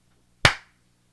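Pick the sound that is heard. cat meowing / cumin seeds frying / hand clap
hand clap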